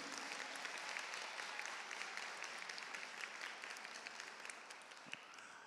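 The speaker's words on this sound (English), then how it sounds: "I want you to give your village, your parents, your friends, your family members, your teachers, your principal, a round of applause" Graduation audience at Lincoln-West High School of Science and Health applauding, a dense, steady wash of many hands clapping from a distance, holding evenly and easing slightly toward the end.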